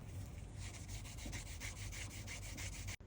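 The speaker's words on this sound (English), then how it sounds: "use Columbus wax or beeswax over the top of the edge and burnish it." Steady rhythmic rubbing of Columbus wax being burnished into a smoothed leather edge, close and continuous with even back-and-forth strokes that stop abruptly at the end.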